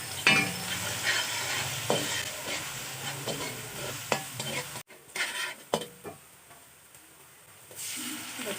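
Onions fry in hot oil with a steady close sizzle and hiss, broken by occasional stirring clatters and scrapes of a spoon in the pan, with no talk over it.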